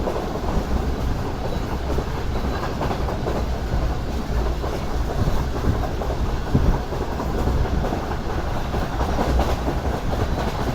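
Pak Business Express train running at speed on the line near Sahiwal, a steady loud roar of wheels and carriages with faint clickety-clack rhythm throughout, no voices.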